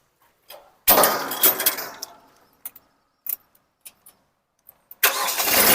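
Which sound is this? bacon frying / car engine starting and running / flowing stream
car engine starting and running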